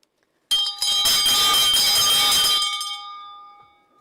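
A handheld bell rings loudly and steadily for about two seconds, then stops and leaves a bright metallic tone decaying slowly to silence.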